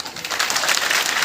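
A crowd at a business seminar in a hall in Ludhiana claps steadily for just over a second. The dense, even patter is close and loud, with no voice on top.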